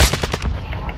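A burst of rapid gunfire in the shooter game Warzone 2.0: several quick, loud shots in a tight rhythm, with faint game ambience behind.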